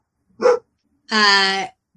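A dog indoors gives two barks close by: a short sharp bark, then after a pause a longer, drawn-out, whining bark, with quiet in between and no talk.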